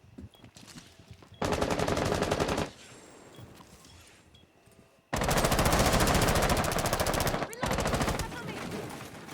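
Assault rifle gunfire in a video game showmatch comes in two long, rapid automatic bursts separated by a quieter stretch. It is loud and close, followed by further shots.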